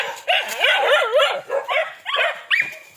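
Several dogs bark and yip close by in quick, overlapping bursts, with some whining pitch sweeps between barks.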